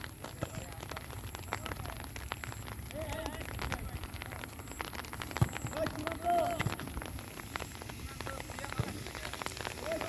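Rain falls steadily during an outdoor friendly football match at an office, a dense spattering hiss on the ground with scattered sharper drips, while muffled voices murmur in the background.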